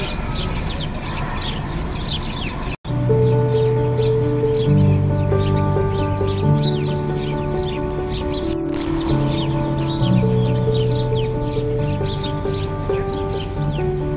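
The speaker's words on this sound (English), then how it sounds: "Sparrows are extremely vocal birds that chirp all the time." House sparrows chirp in a dense, continuous chorus at dawn, bright rapid calls layered over a steady tonal drone of music, with two brief cuts in the sound.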